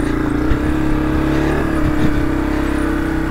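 A trail motorcycle engine revs hard while climbing a steep dirt track through coffee-growing country, a steady loud drone with rising and falling throttle pulses.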